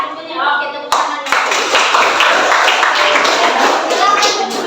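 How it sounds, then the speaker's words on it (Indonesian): A classroom of schoolchildren bursts into sustained applause, many hands clapping close and loud, with voices mixed in over the clapping. "Oke, tepuk tangannya."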